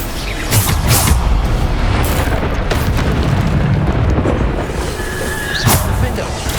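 Hogwarts Legacy combat with Bombarda spell explosions, loud repeated booming blasts and bursts in fast succession, with voices speaking over the action.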